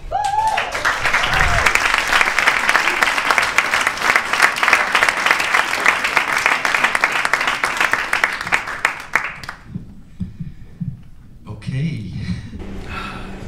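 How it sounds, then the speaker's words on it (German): An audience at a tour-opening show in Bern claps in loud, dense, sustained applause for about nine seconds. The clapping then breaks off, and nearby voices talk over faint room noise. "Klatscht haben sie auf jeden Fall."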